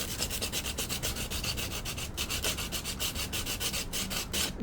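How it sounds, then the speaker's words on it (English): Sandpaper rubs against the corners of a 3D printed part in fast, steady back-and-forth strokes, a close, continuous rasping scratch with an even rhythm and no voices. "Now I could sand some of the corners I need"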